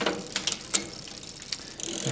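A bicycle rear derailleur on a bike stand shifts through the gears, giving a few close, crisp clicks and ratcheting ticks spaced across two seconds, ending in a brief rushing whir of the spinning drivetrain.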